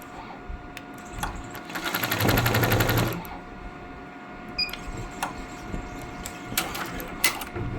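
A sewing machine stitching a two-colour neck design runs in one close, rapid burst of about a second and a half, then stops, leaving faint clicks and handling sounds.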